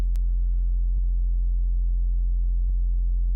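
A sustained sub bass sine wave drones continuously at steady loudness, deep and pure, with a couple of faint clicks along the way.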